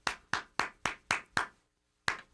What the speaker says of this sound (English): let's clap some hands, Longoria.